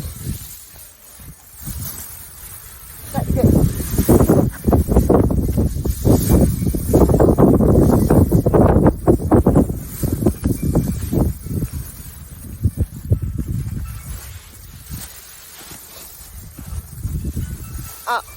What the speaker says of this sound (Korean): 지금 바람 많이 불어서 얘가 빠스락빠스락거리는데